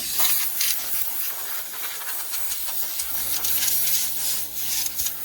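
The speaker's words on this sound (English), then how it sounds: "And just blow off all the obvious dust and dirt and any debris." A compressed air blower nozzle blows dust and debris off a Ford F350 rear fuel tank, a steady close airy hiss with a faint low mechanical drone underneath.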